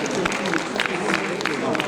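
Audience applause at an award ceremony, a steady broadband wash of clapping from a crowd, heard briefly and continuously.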